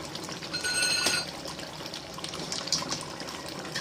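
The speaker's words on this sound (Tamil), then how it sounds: "இது நல்லா கொதித்து நல்லா வத்த வேகட்டும்." Chicken gravy boiling in a pot on the stove, a steady bubbling and simmering wash that runs throughout at close range, with no talk over it.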